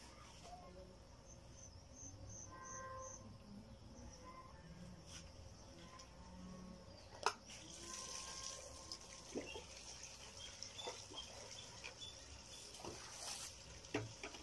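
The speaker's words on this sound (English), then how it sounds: "Guys, we are fetching some water." Water runs and splashes faintly while being fetched outdoors in a Kenyan village, with insects chirping and occasional clanks and knocks nearby.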